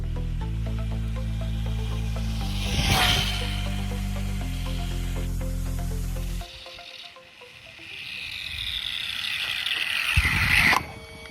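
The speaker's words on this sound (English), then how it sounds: "it sounds like I might be having some gear mesh issues here" An HBX 16890A 1/16-scale RC truck with an XTeam 2850 6,550kv motor on 2S runs with a gear mesh fault, giving a loud whine that breaks into harsh ratcheting gear-grinding bursts, with no talking.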